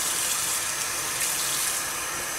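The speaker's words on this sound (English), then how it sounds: "So I'm just going to start adding some warm water." Warm tap water pours steadily into a bowl for cleaning makeup sponges, a constant close splashing rush with no pauses.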